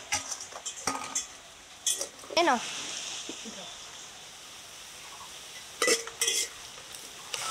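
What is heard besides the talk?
marinated chicken added and stirred over fried onions in pot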